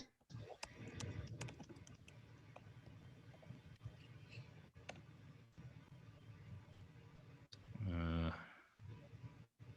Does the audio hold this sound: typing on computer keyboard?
yes